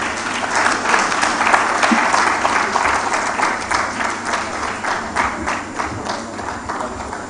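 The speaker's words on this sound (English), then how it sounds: "Are we tired of clapping?" Clapping from the audience at a Nigerian project closeout event, vigorous and dense at first, then thinning slightly while still holding a steady patter, with a faint voice briefly underneath.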